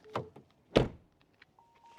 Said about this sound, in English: And door closing sounds